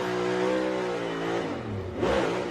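A race car's engine revs hard during a victory burnout after a short-track win in Iowa, a loud, steady roar that sags briefly and then surges again near the end, with no talk over it.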